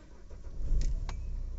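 A Nissan Terrano with a starting problem and a check-engine light fault cranks briefly, then its engine catches and settles into a low idle rumble. The sound is close, with no voices.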